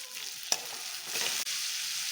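Tomatoes and onions fry steadily in a pan, a continuous soft sizzle broken by a sharp stir or scrape near the start and another near the end, heard close with no talking.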